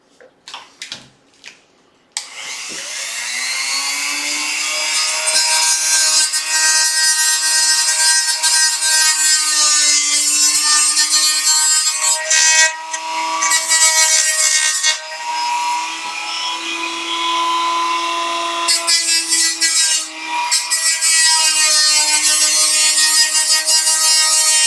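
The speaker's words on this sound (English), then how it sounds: "You can probably clean it up with the Dremel tool." Dremel rotary tool grinding and trimming a broken-off plastic edge during a TQ install, a steady high-pitched whine running nearly continuously with brief dips, close and loud with no talking.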